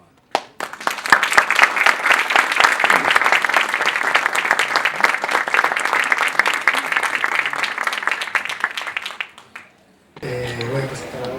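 A seated audience at a book presentation claps steadily for about nine seconds, dense and fairly close, then the applause cuts off and a voice begins speaking.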